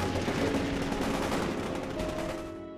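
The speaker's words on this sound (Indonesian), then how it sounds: "mendengar rentetan tembakan panjang" A long, dense burst of rapid gunfire from a film, loud and continuous, tapering slightly toward the end.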